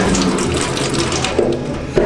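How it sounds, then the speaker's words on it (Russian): A tap runs in a gym changing area, water streaming loudly and steadily into a sink up close, with a couple of brief knocks near the end and no talking. "Вода есть, еще проверим просто."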